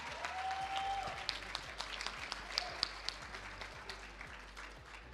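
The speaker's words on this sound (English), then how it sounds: "Can we please give a round of applause to Otto Me?" A crowd applauds at a national ICT summit awards ceremony after a third-place winner is announced, a steady wash of clapping with a few sharper claps standing out and a faint tone and low hum beneath.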